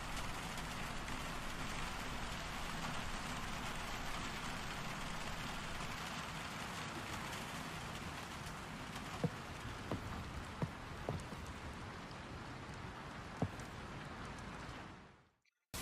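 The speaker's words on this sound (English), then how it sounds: "The rain hitting the window panes." Rain patters steadily and softly against window panes, a quiet continuous wash with a few sharper drips near the end before it fades out.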